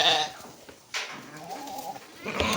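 A few sheep bleats, one loud at the start, a short cry near one second, and another near the end, over quiet rustling background.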